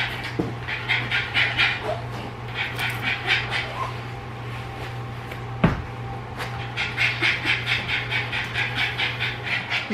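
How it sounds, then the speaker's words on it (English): A dog pants rapidly and rhythmically close to the microphone indoors, steady quick breaths continuing throughout with a brief pause and a sharp knock midway, over a low constant hum. "all the panting is my dog"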